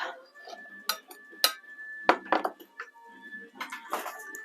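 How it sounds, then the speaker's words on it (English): Washed, chopped rhubarb tipped into a saucepan, a few clinking pot-and-utensil knocks and soft tumbling thuds in bursts, close and fairly quiet with gaps between. "Grab that saucepan that we spoke about in the beginning. Pop in your washed, chopped rhubarb."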